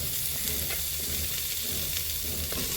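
Onion, garlic, green chillies and ginger fry in a hot pan with a steady loud sizzle and hiss, along with occasional stirring scrapes, up close with no speech.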